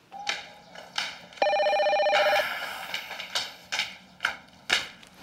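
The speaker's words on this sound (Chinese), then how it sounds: "快接电话" A telephone rings once in a single, bright, electronic trill lasting about a second, surrounded by sharp rhythmic knocking or tapping sounds at a close distance.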